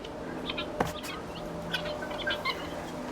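Chickens clucking in a nursery, with a few scattered soft clucks and one sharp thump near the start over a low steady hum, no talking.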